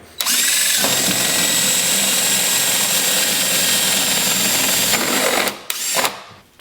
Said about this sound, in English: I drilled through one side of the pipe, and I've used a bit long enough to get through the 4-inch pipe